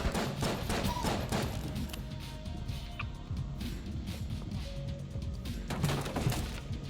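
Rapid bursts of cartoonish gunfire from the video game Enter the Gungeon, clustered shots and impacts over background game music and effects.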